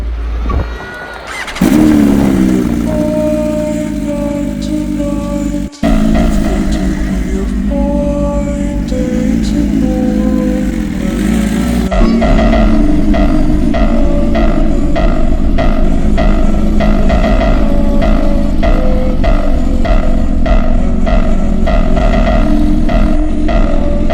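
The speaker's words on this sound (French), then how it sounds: "Maintenant, on va faire la moto." A motorcycle engine runs steadily and revs up, loud and close, with a brief cut near six seconds before the rumbling idle and clatter carry on to the end.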